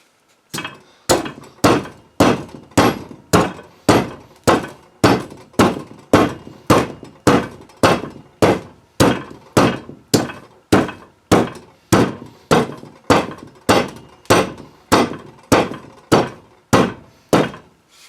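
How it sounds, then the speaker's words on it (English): A big ball peen hammer strikes repeatedly at a steady rhythm, about two blows a second, loud, close and ringing, with no talk, during work on a small gas bottle foundry build. "I'm going to start off with a big ball peen."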